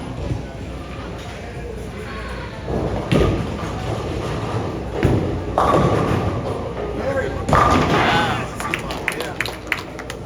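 Bowling balls crash into pins during a team bowling league finals game, several loud thuds and clattering impacts rising over a noisy alley crowd with talk throughout.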